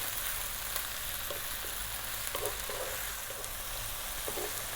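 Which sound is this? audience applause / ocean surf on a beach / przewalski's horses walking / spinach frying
spinach frying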